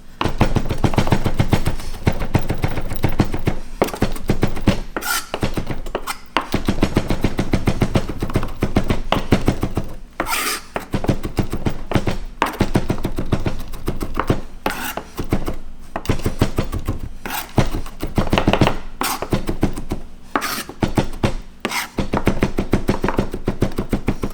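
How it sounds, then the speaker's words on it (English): A knife minces garlic on a cutting board with rapid, steady chopping. The dense stream of sharp taps is close and loud, with a few brief pauses between bursts. "Repeat the process until your garlic is minced."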